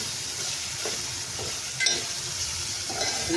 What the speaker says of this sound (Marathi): यात मी आता लाल मिरच्या टाकल्या आहेत